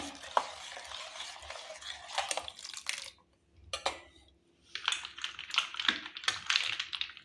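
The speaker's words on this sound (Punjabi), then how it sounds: "ਇਹਨੂੰ ਆਪਾਂ ਕਰ ਦਾਂਗੇ ਜੀ ਮਿਕਸ ਹਾਂਜੀ ਤੇ ਆਪਾਂ ਨੇ ਇਹਨੂੰ ਕਰ ਲਿਆ ਮਿਕਸ" A spoon stirs a homemade drink, giving close clinking and scraping bursts against the glass in uneven rhythm, with a short pause midway before the stirring resumes, and no talking.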